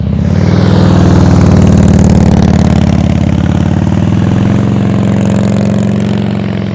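A motorcycle engine runs loud and close during slow-speed riding practice, holding a steady throbbing idle with gentle throttle swells and small revs throughout.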